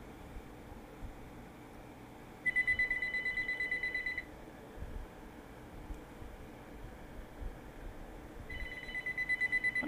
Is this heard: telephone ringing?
yes